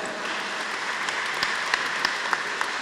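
A crowd at a concert in a basilica applauds with a continuous, moderately loud patter of clapping, a few sharper individual claps standing out.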